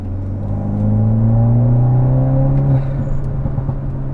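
A BMW F30 engine revs up with a rising, droning pitch, then drops off as throttle is released, with a brief faint hiss from the blow-off valve; loud and close.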